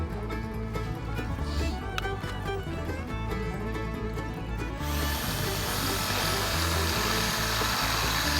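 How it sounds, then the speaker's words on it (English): A power drill bores a hole between two pieces of a tight fitting, a loud steady whine running throughout, with the pitch and texture shifting partway through as the bit works through the material. "I'm going to at least drill 1 hole on one side between the 2"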